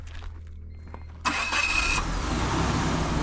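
A Geo Tracker used as a hunting rig cranks and starts, a sharp burst of engine noise that settles into a steady, loud, close idle with no talk over it.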